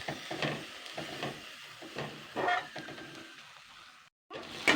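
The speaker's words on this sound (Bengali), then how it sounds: "সজনে পাতাগুলো দিয়ে এটাকেও আমি 2 মিনিট মতো নাড়াচাড়া করে নেব।" Moringa leaves being stir-fried in a pan, soft sizzling broken up by repeated scraping strokes of a spatula, close and quiet, ending in a brief silence and a final clatter.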